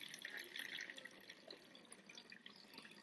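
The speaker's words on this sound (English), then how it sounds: "And there's my 1 cup of water. And I'm going to pour this" A cup of water is poured into a bottle while making a sensory bottle, a quiet trickling, splashing flow with small bubbly drips, continuous for a few seconds at close range and without talking.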